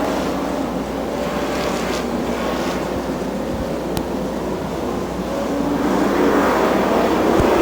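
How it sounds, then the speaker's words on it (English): Super Bomber stock cars race at Dixie Speedway as the green flag drops, producing a continuous loud engine roar from the field with no talk over it, swelling slightly near the end. "So green flag going down, and here we go as the field coming across."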